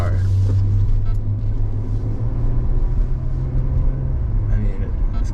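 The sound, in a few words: Maserati Ghibli engine and exhaust note while driving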